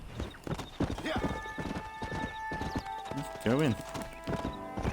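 Horse hooves clip-clopping in the video game Red Dead Redemption, a rhythmic trot with a whinny partway through, under a voice talking over the gameplay along with music tones.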